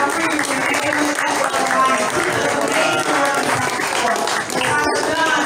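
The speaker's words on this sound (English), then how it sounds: "Everybody give her a round of applause." An audience applauds a timekeeper at a Chicago 5th Ward runoff event, with steady, dense clapping and crowd noise that stays fairly loud for the whole stretch, with no clear speech over it.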